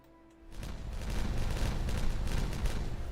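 Dynamite detonates in Timberborn, a heavy blast that rises from quiet into a sustained rumbling roar of debris and crackle lasting several seconds.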